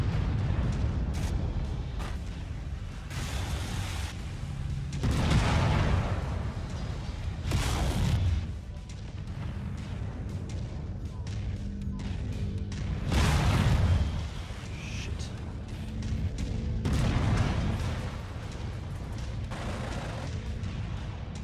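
Mechwarrior 5 game audio carries repeated heavy booms from autocannon and other mech weapons fire. The blasts come in bursts at irregular intervals over a continuous rumbling background.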